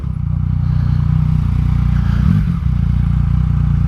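A KTM Superduke motorcycle being ridden, its engine a low, steady rumble heard close from the rider's position, with a brief swell and dip partway through but otherwise holding an even drone.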